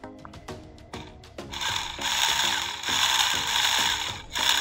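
A battery-powered motor drives the plastic gears of a homemade RC Massey Ferguson tractor model, starting with a few stuttering clicks and then a steady, close, rapid ratcheting whir of meshing gears.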